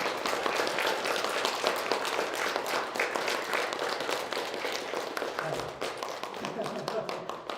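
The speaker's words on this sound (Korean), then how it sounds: "우리 성도 여러분께서는 기쁨을 담아 함께 박수로 환호하겠습니다." A church congregation applauds a baptism during Sunday worship, with dense sustained clapping from many hands that fills the room, fairly loud and even throughout, with voices mixed in.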